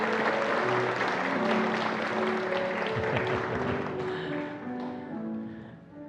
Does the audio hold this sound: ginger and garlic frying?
no